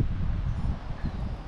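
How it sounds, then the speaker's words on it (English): Strong wind roars and buffets against the microphone outdoors on a sunny day, a loud, steady low rumble with gusty surges and no voices. "Nice and sunny, but windy. Super windy."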